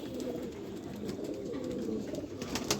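A Rampuri pigeon cooing close by, soft repeated low throaty coos in a steady rhythm with faint clicks and rustles around it.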